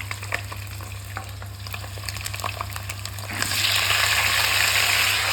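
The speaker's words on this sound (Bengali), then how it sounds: "আলুটাও একটু সুন্দর নেড়ে চেড়ে ভেজে নিই" Boiled potatoes are stirred into a pan with browned fried eggs, giving a steady frying hiss with scraping stirs. The sizzle swells louder partway through, and a low background hum continues throughout.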